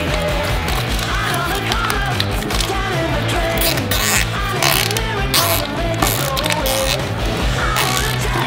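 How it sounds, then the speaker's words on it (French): Plastic cable ties are ratcheted tight around a piping bag fixed to an iron tube, a steady run of close, loud clicking and zipping with a mechanical rasp, and no talk over it. "poussez à travers le tube de fer et fixez-le avec des attaches en plastique"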